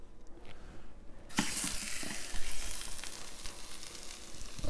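Mahi mahi fillet hitting a hot Cinder Grill at sear temperature: after a quiet start, a sudden loud sizzle erupts and holds steady, crackling close up.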